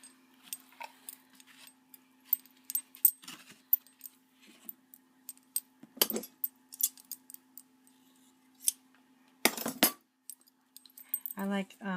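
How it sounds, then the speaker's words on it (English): Very sharp scissors snip through fabric edges and lace trim in scattered crisp clicks and short rasping cuts, close and fairly quiet over a steady low hum, with a brief burst of talking near the end. "I like cutting off my edges with a very sharp scissor"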